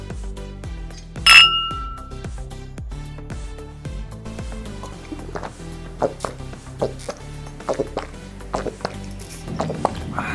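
Wine glasses clink together in a toast during a home cooking session: one bright, ringing clink near the start, then scattered lighter taps and clatter of glass and utensils up close.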